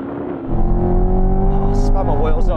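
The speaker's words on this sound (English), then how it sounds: "This thing launches so well." Corvette and Ferrari 458 Speciale launching side by side in a drag race, a loud sustained engine roar that swells after a half-second and holds steady with a rising drone, faint voices mixed underneath.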